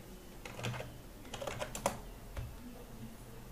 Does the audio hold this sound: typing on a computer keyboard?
yes